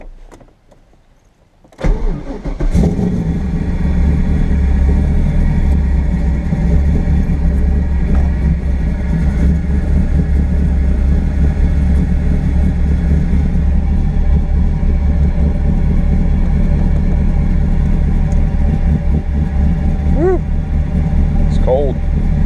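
A 1986 Trans Am with an LQ4 V8 swap, cold after sitting two months, cranks and fires with a sudden bark, then settles into a loud, steady, lumpy idle, close by, with occasional voices underneath.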